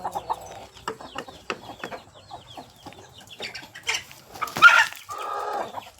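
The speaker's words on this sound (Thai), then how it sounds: "มีแต่ไก่เด็กเดินเล่นสบาย ปล่อยกินหญ้านิดหน่อย" Young Burmese laying hens and pullets ranging freely on grass, clucking and squawking in scattered close calls, with a rooster-like crow near the end, on a farm with no talk.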